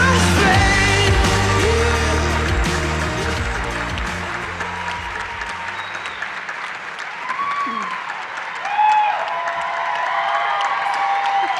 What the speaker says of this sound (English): please join me in a warm round of applause for all of our Hall of Fame members